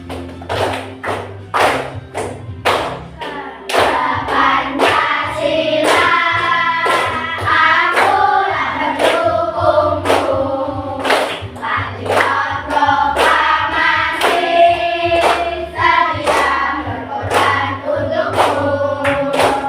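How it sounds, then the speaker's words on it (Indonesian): Children clap along in a steady rhythm while singing an Indonesian national song in a classroom, with sharp evenly spaced claps under the singing voices for the whole stretch. "Kita sambil tepuk tangan boleh."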